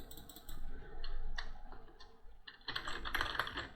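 Keys clatter on a computer keyboard nearby, a short burst of light taps, then a pause and a faster, denser run of clicks toward the end, with no speech.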